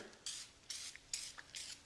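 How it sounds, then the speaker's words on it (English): Four short hissing bursts from a can of Easy-Off oven cleaner sprayed onto cast iron cookware, evenly spaced and faint, with quiet soft rubbing in the gaps. "I'm going to spray it on there. I'm going to be very liberal with it."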